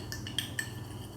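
Spoon stirring jojoba oil, vitamin E oil and kasturi turmeric powder in a small dish, producing a few faint, quick metallic clinks against a quiet background.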